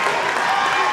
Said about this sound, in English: The crowd's getting hype. Everyone here on their feet.